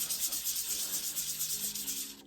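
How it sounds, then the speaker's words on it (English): Vanmoof S3/X3 bike brake pad rubbed on sandpaper, giving a rhythmic, gritty back-and-forth scraping of about a dozen strokes, close and moderately quiet, with no talking. "if you give it a quick rub on the sandpaper"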